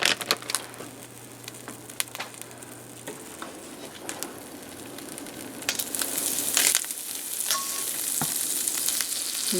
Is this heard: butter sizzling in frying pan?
yes